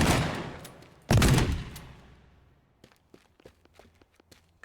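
Shotgun blasts in the destruction game Teardown: two loud booming shots about a second apart, each trailing off, followed by scattered light clatter and thumps of debris.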